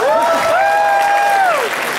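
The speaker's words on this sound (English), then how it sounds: "Round of applause when I say people's names, please" Convention crowd at an anime event's closing ceremony applauds for about two seconds, with a long rising and falling whoop or cheer riding over the dense clapping.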